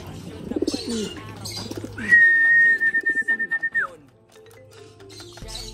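Pigeons coo and call while feeding from a person's hand, with short bird vocalizations and a long, steady whistle-like tone in the middle, fairly close and clear against a quiet background.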